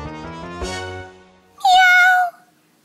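A domestic cat gives a single loud, drawn-out meow, close and clear, preceded by a brief stretch of musical tones and followed by near silence.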